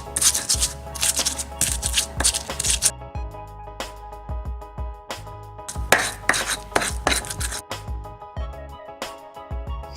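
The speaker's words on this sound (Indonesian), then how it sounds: "Ulek bumbu hingga halus." Spices ground to a paste with a stone pestle in a mortar (ulek), giving bursts of gritty scraping and knocking strokes, close and fairly loud, with pauses between and background music.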